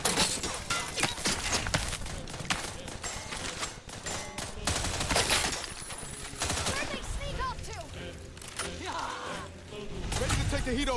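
Gunfire in The Outer Worlds 2, dense bursts of rapid shots with crashes and impacts filling a continuous loud battle, voices speaking over the fighting.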